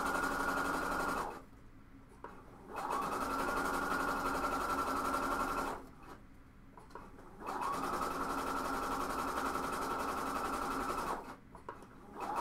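A sewing machine stitches a cowl neck tank in long steady runs of humming motor noise, broken by short pauses, close and loud with no talking.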